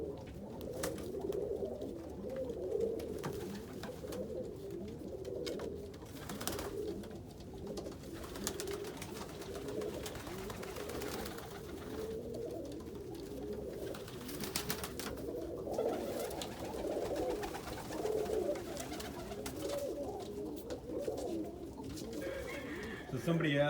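Pigeons coo steadily in a loft, producing a dense, continuous murmur of low rolling calls from several birds, with someone talking over them throughout.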